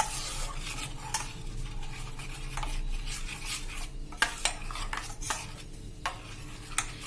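Chilli mint paste is stirred into a mixture for mint chutney, giving a faint wet scraping with soft sizzle-like texture and sharp clinks of a spoon against the pot at irregular intervals.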